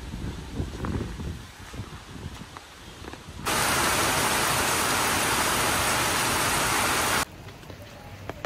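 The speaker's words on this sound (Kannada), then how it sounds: "ಬೆಳಗ್ಗೆಯಿಂದ ಮಳೆ ಹೊಡಿತಾ ಇರೋದು ನಿಂದಿರ್ತಾನೆ ಇಲ್ಲ." Rain falls on Andaman's Havelock and Neil islands, a soft patter that swells into a loud, steady downpour for a few seconds before easing back to a lighter hiss.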